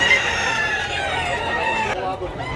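A two-year-old White Hatch gamecock in Tabunok, Talisay, Cebu gives a long, loud crow with a ringing, harmonic tone that drops away near the end. Quiet chatter can be heard underneath.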